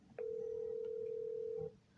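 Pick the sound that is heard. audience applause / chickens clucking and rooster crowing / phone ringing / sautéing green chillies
phone ringing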